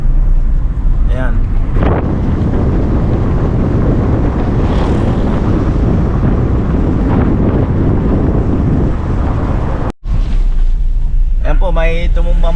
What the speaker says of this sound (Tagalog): Ayan o, malakas yung hangin